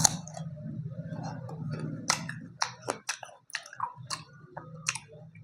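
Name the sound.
chewing persimmon fruit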